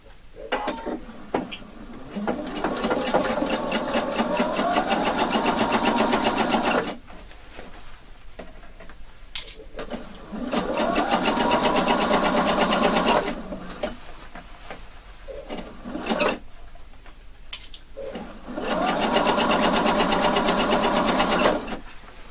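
A sewing machine stitches a half-centimetre seam around a round neckline facing, running in three steady bursts of dense mechanical whirring separated by quiet pauses with small handling clicks.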